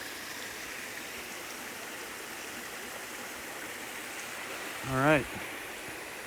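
A clear forest stream in Talladega National Forest flows with a steady, even rush of water that continues throughout, and someone briefly speaks near the end.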